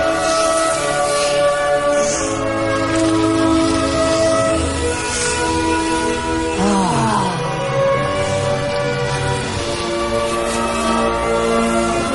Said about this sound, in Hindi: ये एक लोकोमोटिव है, कोई बर्फ से बना हुआ।